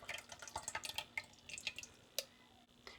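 Hands squeeze and strain soaked tomato and tamarind pulp for South Indian rasam, sending juice in quick irregular drips and small splashes, quiet and close, with no one speaking.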